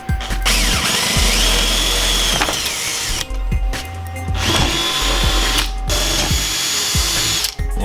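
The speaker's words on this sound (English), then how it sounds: "Now I'm going to take a 3/8 inch drill bit and drill it" A power drill with a 3/8 inch bit whirs loudly in repeated bursts with brief pauses between, close up, the motor pitch rising and dropping as it bores through plywood.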